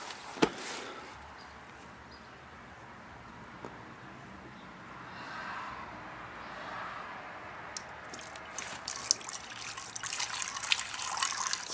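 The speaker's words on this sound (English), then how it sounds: "take a look at this fuel when I pour it out." Old, spoiled orange fuel pouring and trickling steadily from a fuel tank into a container, faint at first and growing, with small splashes and clinks toward the end.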